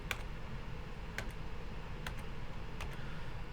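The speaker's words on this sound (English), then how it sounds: "So if I hit the backslash key on my keyboard" A few quiet, isolated key presses on a computer keyboard, spaced about a second apart, over steady low background hiss.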